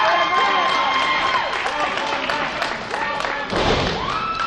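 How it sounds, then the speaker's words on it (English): A wrestling crowd at an independent wrestling anniversary show cheers and claps loudly and continuously, with a sharp thud near the end, as if a wrestler hit the ring. "And crowd is certainly elated to see Matt as well"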